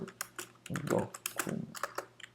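Keys clack in quick irregular bursts as someone types in a Jupyter Notebook on a computer keyboard, close and fairly quiet, with a voice murmuring partly over the tapping.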